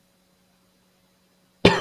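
Near silence, then a single sharp cough bursts out close by at the very end.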